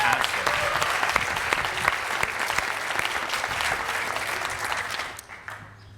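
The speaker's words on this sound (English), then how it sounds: "Can we have another round of applause for that?" A graduation-celebration crowd for the Class of 2020 claps in a dense, steady round of applause after a speech, holding strong for about five seconds before quickly tapering off.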